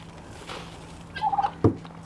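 A pet turkey lets out a short gobbling burst, a quick run of warbling notes followed by a sharp louder call, close by with no talk over it.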